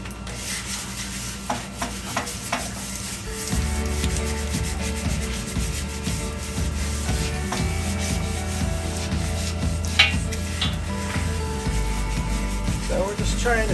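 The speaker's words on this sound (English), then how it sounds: "now we're going to wet sand this bumper" Wet sanding with 220-grit paper across a primed steel rear bumper for a Jeep JL, heard as a continuous close rubbing rasp over a low background hum, with a few brief knocks.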